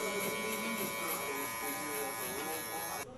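Electric hair clippers fitted with a one guard, lever fully open, cut hair during a drop fade; a steady close mechanical buzz drones without a break for about three seconds, then drops off abruptly at the end.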